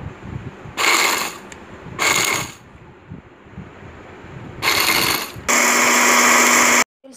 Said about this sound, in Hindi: ये मैंने डाल दिया है, अब इसको मैं ग्राइंड कर लेती हूँ।